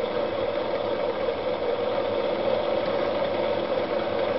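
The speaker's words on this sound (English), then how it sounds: "Once again, the feed screw starts entering into the reversing cam" Inside a coin-operated Multiphone phonograph, the feed screw engages the reversing cam with a steady mechanical whir and a constant hum, running evenly and close throughout.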